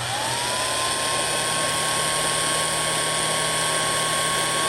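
An antique OB-4 signal drill, freshly restored, runs with a steady motor whine and mechanical hum at constant speed, loud and close, with no pauses or talk.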